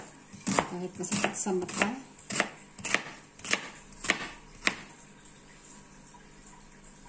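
A knife chops ginger and onion for Filipino fish paksiw, with about eight crisp, evenly spaced strikes on a board, then quiet; someone speaks briefly over the first cuts.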